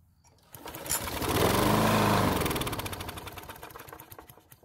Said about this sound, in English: So this time it started and ran for a good bit of time on the gasoline I put into the carb